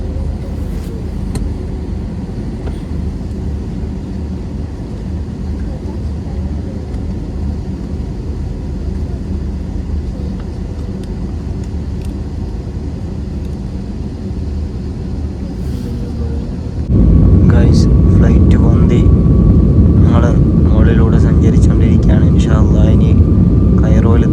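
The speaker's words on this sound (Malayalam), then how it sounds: "നമ്മുടെ കൈറോയിലേക്കുള്ള ഫ്ലൈറ്റ് മൂവ് ആയിട്ടുണ്ട്" Steady low engine drone inside an airliner cabin on a flight to Cairo, growing noticeably louder partway through as the plane gets moving, with faint voices now and then.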